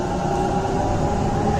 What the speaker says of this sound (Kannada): ಟ್ರೈನ್ ಸ್ಟಾರ್ಟ್ ಆಗಿದೆ.